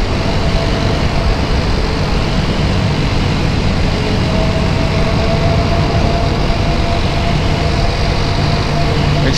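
Dafra Next 300 motorcycles cruising on a highway give a steady, dense roar of engine and wind noise that stays constant and loud throughout, with no pauses.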